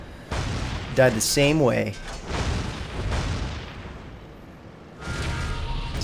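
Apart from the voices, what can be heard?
grenade explosion thrown from tank in Battleline: Steel Warfare video game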